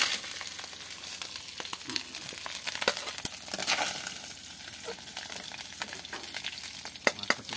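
Fish frying in a pan as it is stirred and lifted out, a soft continuous sizzle with scattered crackles, scraping clicks and small pops, fairly quiet and close.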